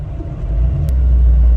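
A steady low engine rumble from a Suzuki Samurai with a swapped 1.6L 16V engine through a 2-inch exhaust pipe, deep and throaty, holding continuously with a slight rise in level partway through, outdoors in snow.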